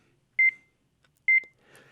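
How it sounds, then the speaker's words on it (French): Avalanche transceiver beeping as it picks up a buried signal: two short double beeps, clear and high-pitched, about a second apart, followed by faint rustling. "Quand le DVA capte un signal, des bips retentissent"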